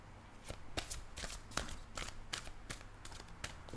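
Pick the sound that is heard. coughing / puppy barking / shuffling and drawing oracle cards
shuffling and drawing oracle cards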